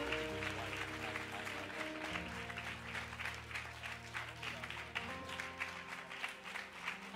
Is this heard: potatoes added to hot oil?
no